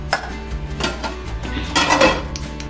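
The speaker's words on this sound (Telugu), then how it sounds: "మూత పెట్టేద్దాం" A lid is set onto a cooking pot of ash gourd curry on the stove, making a few close metallic clanks and scrapes against the rim, with no talking.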